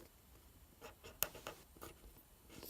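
Pen or pencil writing on a green index card, with soft, close scratchy strokes in short bursts and one sharp tap partway through, all quiet.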